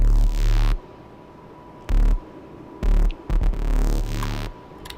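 A raw, unprocessed synthesizer saw wave sounds in bursts, long tone, then short separated stabs, buzzy and harsh, with hum between notes and no speech.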